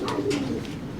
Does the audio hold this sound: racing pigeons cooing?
yes